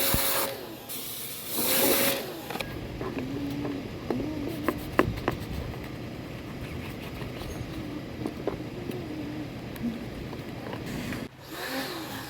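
Water jet spray cleaning the evaporator housing of a Honda Civic air conditioner during a repair, a steady hissing wash sound with machinery-like rattle throughout, brief louder bursts near the start.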